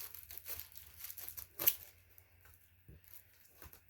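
Wrestling belt packaging being cut and torn open, with faint close crinkling, tearing and plastic rustles and one sharper rip in the middle, all quiet and without talk.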